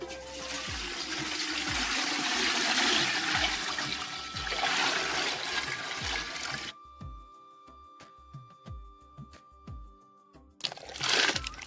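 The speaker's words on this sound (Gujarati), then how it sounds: "એમાં પાણી નાખીએ." Water pours into a cooking pot at a rural outdoor family kitchen, a steady splashing stream for several seconds that stops and gives way to faint scattered clinks and small knocks.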